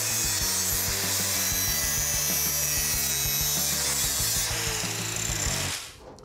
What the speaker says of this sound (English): a grinder will clean up the edges